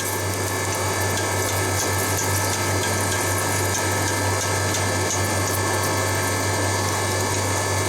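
A lathe coolant pump runs steadily with a constant low hum and a broad, even mechanical hiss, never changing pace, close by and with no one talking.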